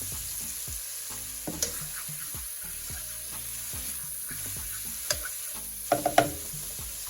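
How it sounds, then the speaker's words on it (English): Minced garlic sizzles softly in hot oil in a pot while a spoon stirs it a couple of times, with gentle scraping knocks over a steady low frying hiss. "We want to make sure that this garlic does not burn. We just go ahead and kind of give it a couple stirs."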